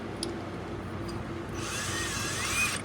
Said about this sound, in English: have a Ryobi drill, which I'm going to be testing as drilling power.